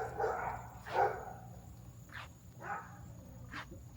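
A dog barks outdoors in a series of four or five separate woofs spaced irregularly, moderately close, over a constant low rumble and faint steady hiss.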